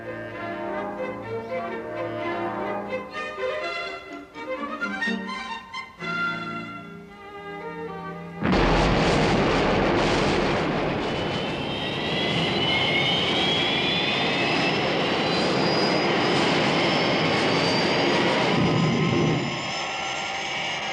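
Thunderbird 1, the rocket aircraft from the Thunderbirds TV series, bursts into a loud, steady jet-like engine roar that sustains for over ten seconds after a stretch of music.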